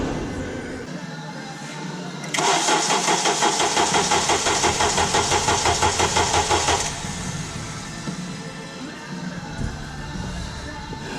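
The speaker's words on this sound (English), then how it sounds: "So I'm going to go crank the engine and let's see what happens." A 2008 Honda Odyssey engine cranks slowly on a worn starter motor with worn brushes, a loud, steady, laboring whir lasting several seconds with a rapid pulsing rhythm, then stopping without catching, against a low background hum.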